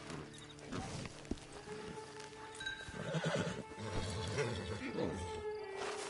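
A horse whinnies over a busy outdoor background, with shuffling movement and a few faint voices nearby.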